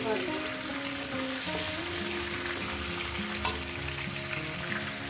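Pumpkin pieces fry in a pan for a fish-head and Malabar spinach pumpkin dish, giving a continuous close sizzle with light stirring and one brief clatter.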